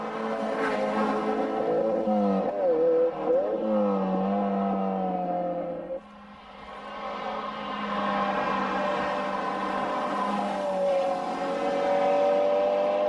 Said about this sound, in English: Ray Ferguson in his Dino 308 GT4.